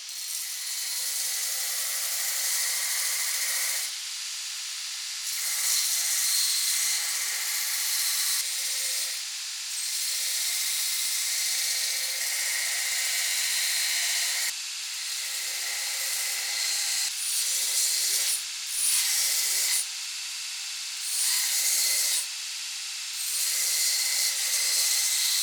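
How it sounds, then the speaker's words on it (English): Belt grinder shaping and cleaning up a mosaic damascus steel belt buckle, a steady bright abrasive grinding that runs in long passes, cutting out briefly between strokes as the piece is lifted and reapplied, close and loud with no talking. "we can go ahead and pick up where we left off on the grinder, getting this guy cleaned up, shaped, profiled"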